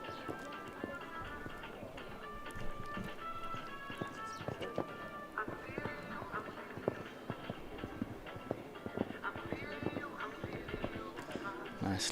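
Horse hooves thud in a steady rhythmic clip-clop on an arena surface during a show jumping round at an FEI Jumping World Challenge event, heard at a distance under a faint murmur of crowd noise.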